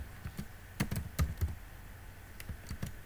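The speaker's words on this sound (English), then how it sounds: "I'm just going to start typing" Computer keyboard typing while entering text into a login form field, heard as sparse, light clicks in short irregular bursts with pauses between them, fairly quiet and close, with no talking.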